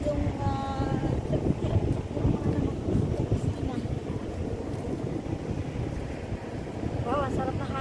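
Gusty wind at a country park in Tai Tam, Hong Kong, a steady broadband rush buffeting the microphone close up, with people talking underneath.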